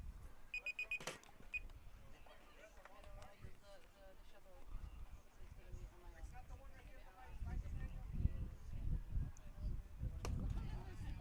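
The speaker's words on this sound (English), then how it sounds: "The timer just went off," A game timer sounds at a 14U PONY International World Series softball game, a quick burst of electronic beeps at the start, followed by outdoor field ambience, crowd noise and a commentator talking.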